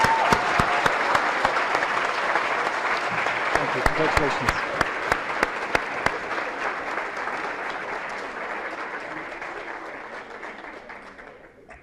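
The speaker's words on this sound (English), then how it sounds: "Let's have a round of applause for our valedictorian and salutatorian." A school awards assembly audience applauds the valedictorian and salutatorian with long, dense crowd applause that gradually fades out, while a few sharper close claps stand out and someone briefly speaks over it.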